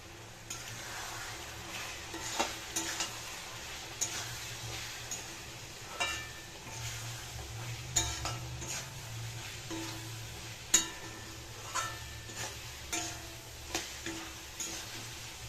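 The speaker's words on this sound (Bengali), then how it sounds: "মশলা দিয়ে একটু নেড়ে চেড়ে নামিয়ে নেব" Amla pickle with melted jaggery and spices is stirred in a pan, giving soft, repeated spatula taps and scrapes over a faint, low sizzle, heard quietly and close by.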